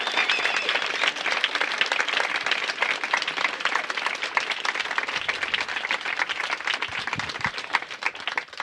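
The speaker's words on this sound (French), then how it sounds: "que je voudrais qu'on commence par applaudir à tout rompre" Sustained, dense applause from a large audience welcoming the Indian ecofeminist activist Vandana Shiva, loud and even throughout with no talk over it.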